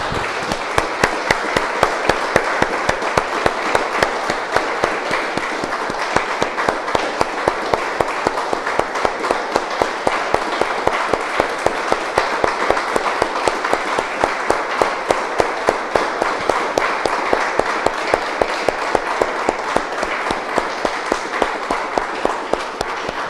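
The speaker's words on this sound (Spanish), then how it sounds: "Vamos a un aplauso, hermanos." A church congregation claps in unison, with a steady rhythmic beat of sharp claps that holds at an even loudness from start to finish and no talking over it.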